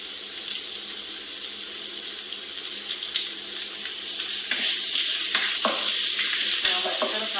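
Masala beef fries in a pan with a loud, continuous close-up sizzle, punctuated by stirring scrapes that grow busier partway through; no voices.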